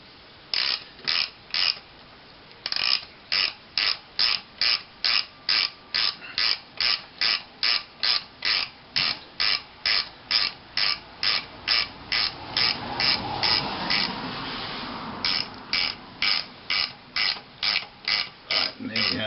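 A motorcycle jack ratchets a bike up off its side stand in a long run of rapid, evenly spaced metallic clicks and creaks, close and loud, with a brief grinding strain partway through.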